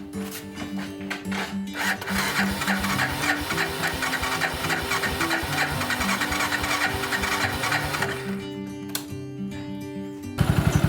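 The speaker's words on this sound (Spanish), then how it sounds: "Vamos a prender la moto." A small motorcycle engine runs at a fast, steady idle with rattling and clattering mechanical noise, close by, easing off near the end.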